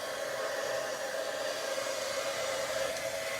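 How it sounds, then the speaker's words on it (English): A heat gun runs during card making, giving a constant close whirring blast of blowing air with no change in pitch and no voices. "See if I could get the heat gun angle that you can see it, the magic."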